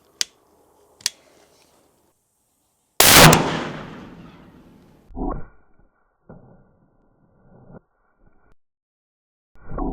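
A 50 cal sniper rifle firing a silver tip round into an engine block, one loud blast with a decaying echo, preceded by faint clicks and followed by scattered knocks and clunks.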